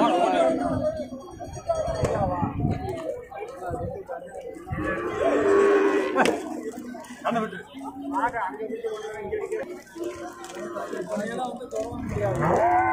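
Cattle low and moo now and then at a busy Tamil Nadu cattle market where heifer calves are sold, mixed with steady chatter and voices of traders nearby.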